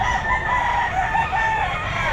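A Pumpkin Sweater gamefowl rooster, eight months old, crows at a busy pet market, its call clear and fairly close over a background of crowd noise.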